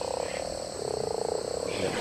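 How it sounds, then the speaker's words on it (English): A blue frog in the video game ARK Survival Evolved croaks in a steady, rapid pulsing rhythm that continues throughout, moderately loud over a constant background hum. "He's a blue frog."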